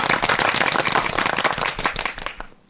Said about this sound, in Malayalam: എല്ലാവരും ഒന്ന് കൈയടിച്ച് ആ